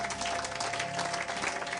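A church congregation claps in sustained applause, a dense steady wash of many hands ringing through the hall for the whole stretch, with faint voices mixed underneath.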